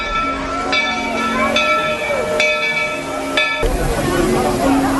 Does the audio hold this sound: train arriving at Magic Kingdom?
yes